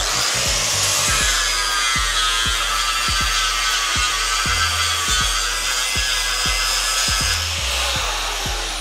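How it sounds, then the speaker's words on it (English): An angle grinder works down a weld on a Series 3 Land Rover body panel, giving a loud, steady, close whine with uneven grinding bursts and knocks beneath it, with no voices. "Then get your grinder."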